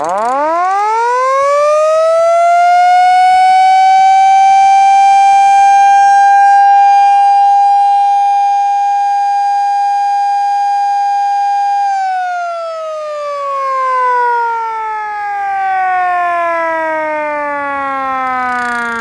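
A loud Federal Electric Model D civil defense siren with resonating horn wails at full pitch, holding a steady tone before winding down with a rising and falling moan. Something scrapes inside. No voices.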